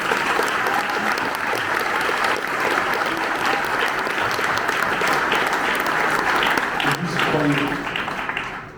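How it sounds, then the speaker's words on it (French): Sustained audience applause at a professional-integration reception honouring educators and sports clubs, dense steady clapping filling the room at even loudness throughout, thinning slightly at the very end. "J'aimerais qu'on vous applaudisse bien fort parce que c'est historique."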